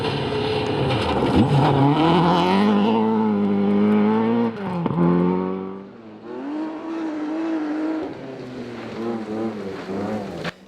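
Rally car on a closed stage at the Armstrong Galloway Hills rally, engine revving hard through gear changes with rising and falling pitch, loud at first then fading as it passes, followed by quieter engine noise.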